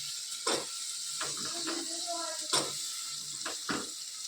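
Potatoes and peas fry in hot oil with a soft, quiet sizzle, broken by a few sharp scraping clicks of stirring and a faint murmur of background voices.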